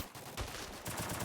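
Gunfire in the Free Fire mobile battle game, with several quick bursts of shots and clattering action under a steady game backdrop, no voices.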